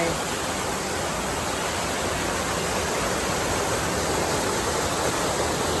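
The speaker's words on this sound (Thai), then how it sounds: "น้ำตกสปันครับ" Steady, dense rushing of Sapan Waterfall in Phrae Province, Thailand, fills the whole stretch, loud and unbroken, with no other sounds standing out.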